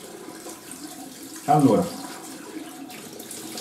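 Hot water runs briefly from a bathroom tap during a shaving routine, a short burst of splashing flow that swells and stops after about half a second, with someone talking quietly before and around it.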